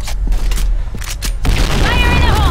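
Grenade blast in a first-person shooter game: a deep, loud boom rolls out about halfway through, after a stretch of rapid gunfire, with game audio and a voice heard around it.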